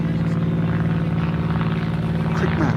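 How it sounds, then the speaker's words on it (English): A propeller airplane drones steadily overhead at a cricket ground, a constant low engine hum throughout, with faint background sounds. "Plane"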